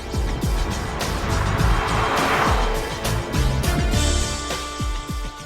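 A Jaguar F-Pace with the 2-litre engine accelerating hard, its engine note loud and strained and rising steadily across the run, with a brief swell partway through before it settles.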